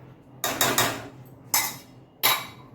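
A metal lid set down on a pan of semolina sheera, giving four sharp clanks in quick succession and spaced apart, close and fairly loud in an otherwise quiet kitchen.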